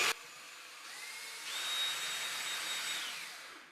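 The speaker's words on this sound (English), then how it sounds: "So the first thing I'm going to do here is I'm going to pre-drill the hole." A power drill whines steadily while pre-drilling a hole into a mobile home ceiling during a repair, a single continuous high-pitched run of a few seconds, with the pitch rising slightly as it bites in, nearby and without talk.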